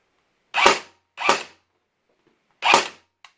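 A NUPROL Delta M4 airsoft gun fires three separate sharp, loud cracks on semi-auto, spaced irregularly with silence between them, then a faint click at the end.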